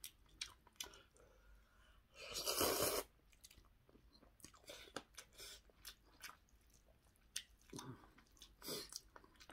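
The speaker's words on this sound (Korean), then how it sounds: "저 라면 먹습니다" Ramen noodles being eaten close to the mic: soft wet chewing, squishy bites and a loud slurp burst, with quiet pauses between mouthfuls and no talking.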